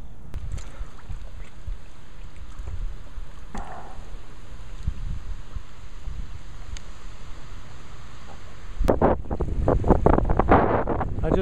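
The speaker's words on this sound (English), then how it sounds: "It's a little bit windy." Steady wind buffets the microphone beside the Missouri River while paddling near its end, a constant broadband rush with a few sharp knocks, swelling into louder gusts and choppy water noise toward the close.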